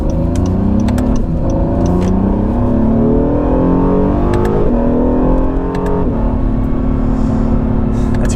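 A 2017 Acura NSX sports car engine revs up hard through several gears, the pitch climbing and dropping at each shift, loud and close with no talking.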